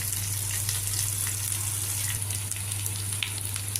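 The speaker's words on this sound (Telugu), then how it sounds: "కొద్దిగా ఉల్లిపాయ ముక్కలు ముందు వేయించుకోవాలి." Chopped onion pieces fry in a pan on a low flame, giving a steady, even sizzle that stays close and continuous throughout, with a low hum underneath and no talk.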